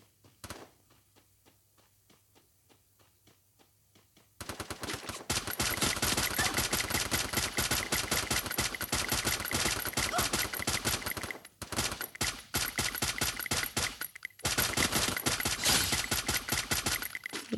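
Gunfire in the Free Fire battle royale game comes as long, dense rapid-fire bursts, loud and close, with brief pauses between volleys after a quiet start.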